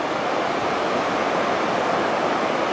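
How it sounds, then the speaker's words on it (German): Mountain stream cascading steeply down a rocky massif in Norway, a dense, steady roar of rushing water, loud and close with no pauses. "Hier geht es weiter mit dem Wasserlauf, der sich da vorne runterstürzt"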